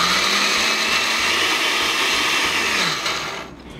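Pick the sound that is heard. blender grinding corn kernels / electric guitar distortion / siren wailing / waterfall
blender grinding corn kernels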